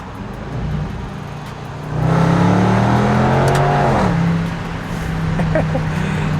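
A 2020 Range Rover Sport with a supercharged V8 revs while driving, a loud, steady engine drone that climbs and swells in pitch as it accelerates, then eases back to a lower cruising hum.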